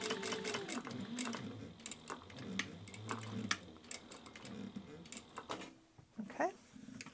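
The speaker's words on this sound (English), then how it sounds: "So we're sewing all the way across this edge at 1/4 of an inch." A sewing machine runs steadily along a fabric edge at a quarter-inch seam while making a hands-free phone pocket, its whirring stitching continuous and close with small mechanical clicks and brief pauses.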